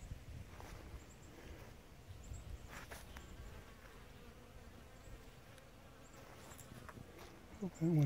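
Cordovan Italian honey bees buzz around Croton capitatus plants outdoors, a soft, continuous insect hum drifting near and far, with a brief louder buzz passing close at the end.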